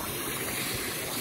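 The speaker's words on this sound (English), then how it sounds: "Got the water going." Water rushes steadily into a swimming pool being filled. The flow is a constant, broadband hiss with no pauses.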